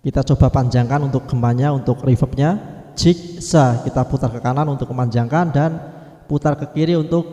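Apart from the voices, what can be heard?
No everyday noises stand out.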